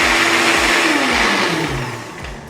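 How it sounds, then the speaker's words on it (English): An onion is being juiced in a blender, which gives a loud, close motor whir with a rhythmic pulsing churn that slowly drops in pitch as the blades work through it. "you'll grab an onion and put it in a blender and juice it"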